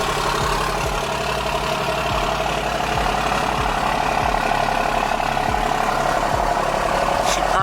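A truck with an axle dump exhaust idles steadily and loud throughout, with a low, even rumble and regular pulsing beneath a continuous engine drone, alone with no talk.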